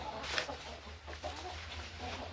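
Laying hens on a small poultry farm cluck softly and intermittently against a low background hum, a few short calls close by.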